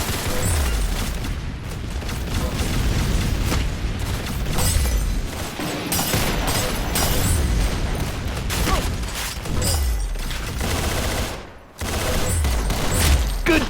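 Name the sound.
gunfire in the video game Arsenal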